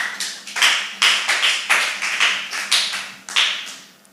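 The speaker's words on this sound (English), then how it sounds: "let's clap for him one more time" A small audience at a spelling bee claps in a slow, steady unison beat, roughly two claps per second, each clap sharp and close with a short ringing decay.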